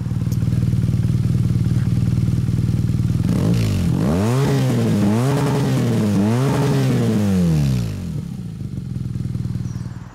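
A BMW R NineT Scrambler motorcycle's exhaust idles loudly and close by, then revs three times in quick succession before settling back to a lower idle.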